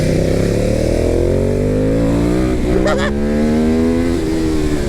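A Ducati Hypermotard 950 engine revs hard and climbs steadily, bouncing against a soft-cut rev limiter near the end. The sustained, loud engine drone sits close to the microphone.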